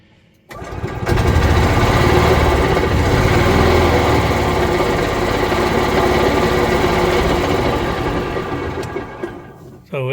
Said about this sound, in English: I'm going to turn it on, and as we speed the motor up